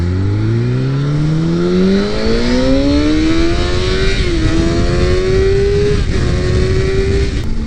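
A motorcycle accelerates hard while merging onto a freeway, its loud engine note climbing steadily through the gears with a brief dip at a shift, up close over constant wind and road rush.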